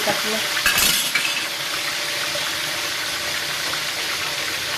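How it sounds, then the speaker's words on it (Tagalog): Steady loud sizzling of fish frying in hot oil, with a brief clink near the start, continuing evenly throughout. "Ipiprito ko muna bago siya tindahan ng gata."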